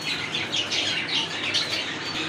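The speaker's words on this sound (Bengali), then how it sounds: "এখানে কিন্তু আরেক জোড়া কবুতর আছে, রাজগোল্লা কবুতর, খুবই সুন্দর" Pigeons at a pigeon farm, including a pair of Rajgolla pigeons, chirp and call in a busy, steady flurry of bright, overlapping sounds close by, with no talking.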